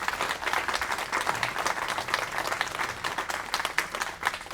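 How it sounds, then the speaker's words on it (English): Audience applauding steadily at the close of an evening author event, a dense roomful of clapping hands that holds even and loud for the whole stretch, with no voices over it. "please give a round of applause to Briony for joining us this evening."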